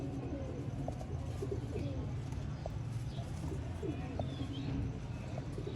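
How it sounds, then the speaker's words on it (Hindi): Sialkoti pigeons coo in soft, repeated low calls over steady background hum, with a few faint chirps scattered through. "ये हैं जी दोस्तों ऑथेंटिक सियालकोटी कबूतर।"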